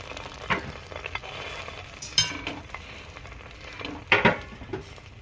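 Bread dipped in egg, frying in oil in a pan, gives a steady soft sizzle with a few sharper scraping and clinking bursts from turning it.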